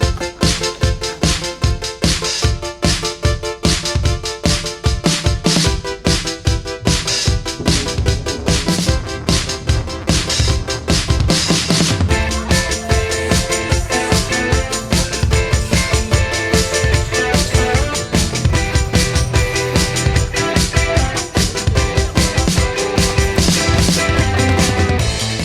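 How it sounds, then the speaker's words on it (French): A street protest demonstration in France fills the air with loud, relentless rhythmic beats, like drums pounding through a crowd. The pounding stays dense and steady for the whole stretch, with no clear voices standing out. "c'est le bruit d'une belle mobilisation"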